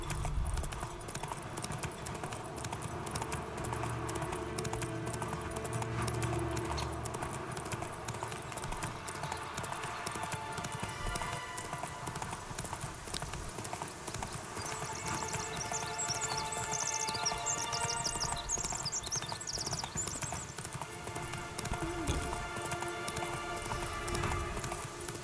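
Horse hooves gallop in a steady clip-clop rhythm through The Witcher 3, close and continuous beneath game music, with a horse's whinny briefly surfacing.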